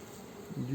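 Honeybees buzz on a brood frame during a July hive inspection, a brief close, low droning hum that swells slightly toward the end.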